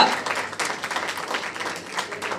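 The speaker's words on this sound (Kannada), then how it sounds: "ಜೋರಾದ ಚಪ್ಪಾಳೆ ಬರ್ಲಿ" Audience applause at a film song launch event, a short burst of dense clapping from a crowd, moderately loud and continuous.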